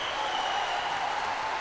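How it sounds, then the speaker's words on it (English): A gymnastics arena crowd applauds and cheers after a routine, a dense wash of clapping from a large audience that stays steady and fairly loud throughout. "Absolutely huge noise from the crowd"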